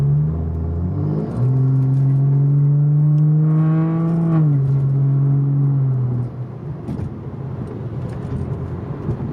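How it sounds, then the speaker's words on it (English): A BMW M235i with a Fabspeed straight-pipe exhaust, heard from inside the cabin, revs up in a loud, droning pull whose pitch climbs and holds. It then drops back to a lower rumbling cruise. "hear the exhaust, some of the vibrations and the bassiness to it"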